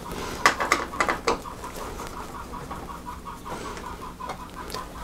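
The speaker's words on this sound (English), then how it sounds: "those are my chickens clucking in the background" Backyard hens cluck in short bursts near the start, then keep up soft, scattered clucks and chirps in the background of an indoor room.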